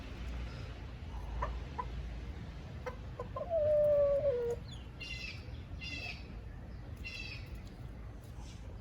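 Backyard chickens in a Texas garden during summer, clucking and calling at a moderate distance. A rooster-like call sounds midway, followed by several short, scattered clucks over faint outdoor background noise.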